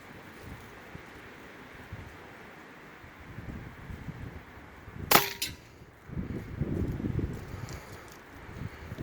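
A single sharp crack from an Air Venturi Avenger .22 air rifle fired at a 50-yard target through a 3-9x32 scope, outdoors on a cold, windy day. The lone shot stands out midway through steady wind rumble.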